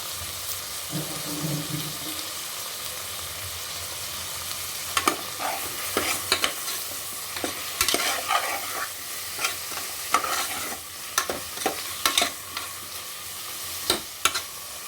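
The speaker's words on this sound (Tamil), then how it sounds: "தக்காளி நல்லா வதங்கட்டும்." Tomatoes sauté in a pan with rock salt for mutton kolambu, a soft continuous sizzle broken by sharp scraping clatters of a spoon stirring against the pan, with a few quicker bursts of stirring later on.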